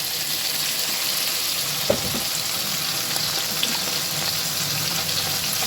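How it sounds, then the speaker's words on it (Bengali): Hot water poured into a frying spice paste of turmeric, cumin, coriander and chili for a rohu fish curry with potatoes, giving a steady sizzling, bubbling rush close up, with one sharp clink about a third of the way through. "একটু জল দিয়ে দিলে মশলাটা দিয়ে দেবো। অল্প একটু গরম জল"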